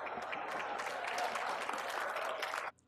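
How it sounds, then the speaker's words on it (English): Seminar audience breaks into dense, steady applause, a sustained wash of many hands clapping at moderate distance that stops abruptly near the end. "People are clapping for this."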